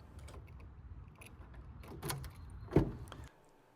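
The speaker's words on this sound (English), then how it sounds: "Then you stick it in the car door, and then you can actually get in the car at this point." A physical key slides into the door lock of a second-generation Toyota Prius, faint metallic scraping and jingling up close ending in one sharp click.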